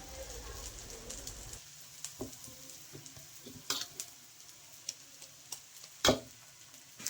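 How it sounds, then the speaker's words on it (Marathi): A dhapate flatbread roasts in oil on a hot griddle with a quiet, steady sizzle. Scattered clicks and taps of utensils rise from it, with one louder knock near the end. "तेल सोडून मस्त असं खमंग भाजून घ्यायचं आहे"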